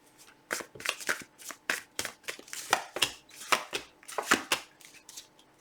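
Tarot cards are shuffled and drawn in a quick series of crisp riffling snaps and slaps, close and fairly soft, with short pauses between bursts.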